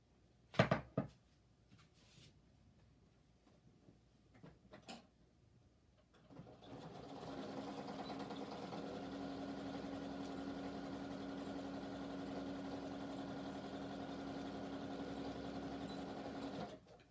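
A sewing machine runs steadily for about ten seconds, top stitching a shoulder bag, with a continuous close motor whir after a few soft handling knocks.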